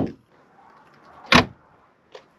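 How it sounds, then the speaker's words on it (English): A door on a 1989 Ford Mustang notchback, twin-turbo Coyote swap, shuts with a single solid thump, loud and close, then a faint click follows a moment later. "Oh, doors close real nice."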